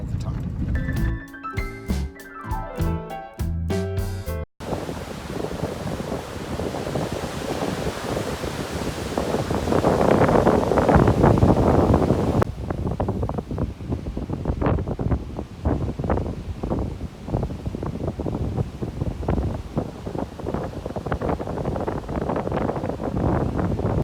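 Big, loud ocean surf on Eleuthera in the Bahamas, a continuous broad roar of breaking waves mixed with gusting wind buffeting the microphone, steady and close, after a brief burst of music at the start; no one speaks.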